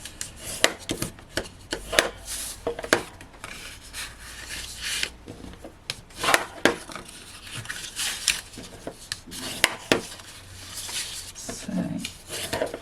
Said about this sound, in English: So let's just give these a burnish down.